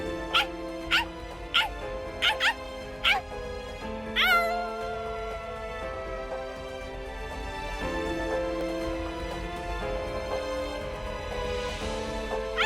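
A dog yelps and whimpers in the anime fighting game Bleach: Rebirth of Souls, with a quick run of sharp, high cries near the start that give way to a sustained musical score underneath.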